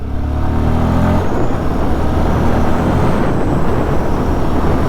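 A 2025 Royal Enfield Guerrilla 450 motorcycle engine pulls steadily in third gear between 3,000 and 6,000 rpm, a continuous close rumble with some wind noise, no voices.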